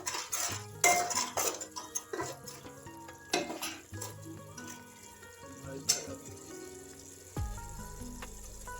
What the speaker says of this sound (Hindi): अब हम इसमें स्वादानुसार नमक डालेंगे और इसे मिक्स करेंगे।